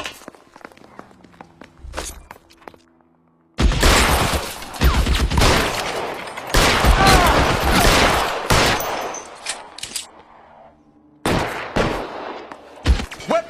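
Gunfire in the video game LA Noire: loud bursts of rapid shots in clusters over several seconds, separated by brief quieter gaps with footsteps.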